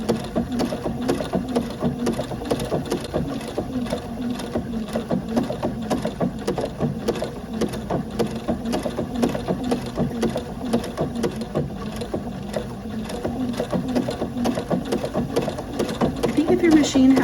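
Sewing machine stitching decorative crazy quilt patterns, a steady fast whirring chatter close by that runs without a break and keeps an even rhythm.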